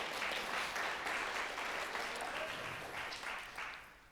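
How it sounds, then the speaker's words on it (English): A concert audience at the University of Puget Sound applauds, with steady dense clapping that fades toward the end. "So a round of applause"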